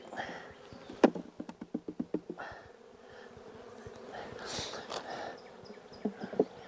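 Honey bees buzz in a mini mating nuc as frames of young brood are handled. The hum runs under a series of sharp taps and knocks from the wooden equipment.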